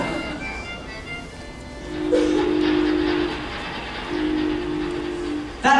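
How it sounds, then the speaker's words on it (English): A train sound effect plays during a live puppet show at a convention: horn-like tones sound twice over rumbling, with a sharp noise at the end. "But now we've missed the train."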